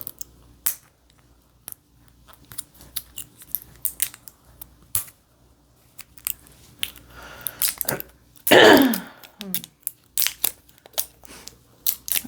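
Scissors snip and crunch through material in short scattered cuts, with one louder tearing, crinkling burst in the middle, close and alone in a quiet room.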